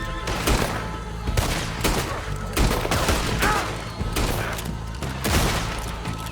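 Repeated gunshot bursts in a Red Dead Redemption 2 shootout, loud and close, cracking every second or so over a dense, continuous layer of firing and rumble.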